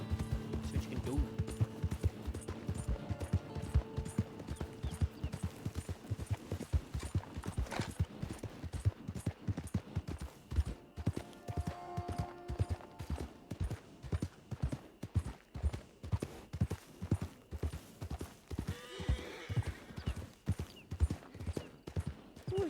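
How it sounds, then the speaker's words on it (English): A horse gallops in the Fortnite video game, its rapid, rhythmic hoofbeats clip-clopping steadily for the whole stretch at a modest, even level. "Horse will not gallop when its stamina is empty."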